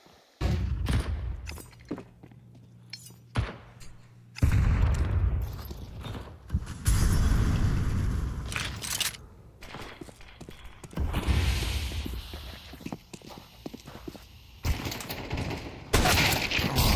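Gunshots in a Counter-Strike match at a major tournament: scattered sharp single shots and short bursts over about seventeen seconds, some close and loud, others fainter, with quieter gaps between.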